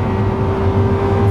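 A Lamborghini Countach engine roars loudly and steadily at very high speed on the autobahn, a sustained high-rev drone with strong low rumble and wind noise throughout.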